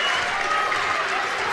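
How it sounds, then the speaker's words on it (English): Frankton's home crowd roars in a high school boys basketball gym after a big basket against Lapel, a dense, loud sustained wave of cheering and applause. "And here comes the Frankton crowd now."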